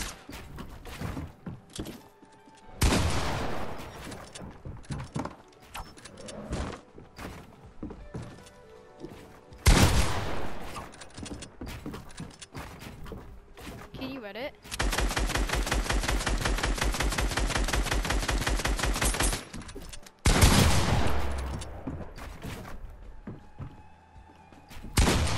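Gunfire in Fortnite: loud, separate blasts around three, ten and twenty seconds, plus a sustained rapid automatic burst lasting several seconds in the middle, with softer clicks and mechanical game sounds in between.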